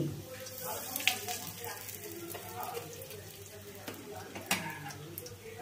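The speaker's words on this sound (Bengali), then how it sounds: "মশলা ভাজা হয়ে গেছে হিং দিয়ে" Spices and asafoetida sizzle and crackle in hot oil over a low flame, with a few sharp clinks of a utensil stirring the pan nearby.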